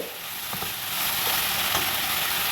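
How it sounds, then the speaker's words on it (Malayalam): Sliced onions sauté in a pan left over from frying prawns, giving a steady loud sizzle that fills the clip with a few faint stirring clinks. "ചെമ്മീൻ വറുത്തിട്ട് അതേ തന്നെ സവാള ഇട്ടിട്ട് നല്ലോണം വാട്ടിയെടുക്കുക"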